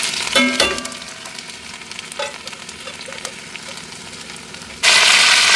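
Ginger hits hot coconut oil that already holds mustard seeds and fries for a koorkka masala: a loud burst of sizzling and spatter at first, a steady softer frying hiss after that, then a sudden strong surge of sizzle near the end.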